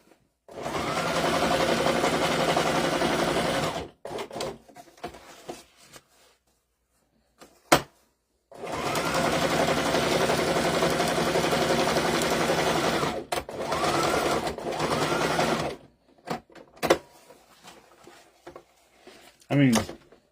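An industrial sewing machine in a shop making tactical nylon goods such as rucksacks runs in two long, loud, steady bursts of several seconds each, separated by quiet gaps with brief clicks and handling noises.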